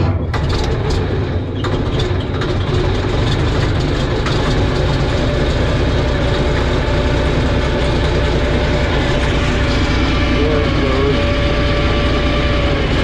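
A Caterpillar D6D bulldozer's diesel engine runs loud and close in a steady, heavy idle with a continuous rumble and clatter after a cold start.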